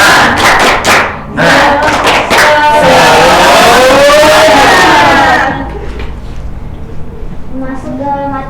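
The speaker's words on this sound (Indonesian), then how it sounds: "Tepuk semangat." An elementary school class claps a rhythmic spirited clap routine during a teaching practice session, bursts of loud group clapping mixed with children shouting and chanting together, then quieter chatter.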